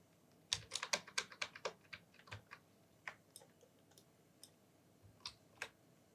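A computer keyboard is struck in a quick flurry of close, crisp key clicks during a SketchUp shortcut, followed by a few scattered single presses.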